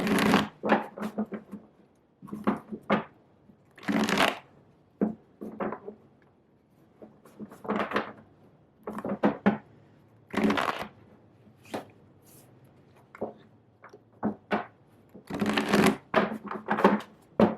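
Tarot cards are shuffled in quick crisp riffles and flicks, repeating in short bursts with brief pauses, close and fairly quiet, no talking.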